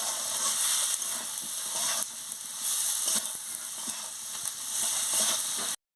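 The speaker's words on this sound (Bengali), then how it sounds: "পরিমাণ মতো নুনটাও দিয়ে দিচ্ছি, দিয়ে ভালো করে কষিয়ে নিচ্ছি।" Fish curry masala with salt is stir-fried in a pan, producing a dense, close sizzle with intermittent stirring scrapes before cutting off abruptly.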